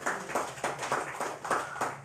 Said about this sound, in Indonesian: Oh, tepuk tangan Kabupaten Landak ya.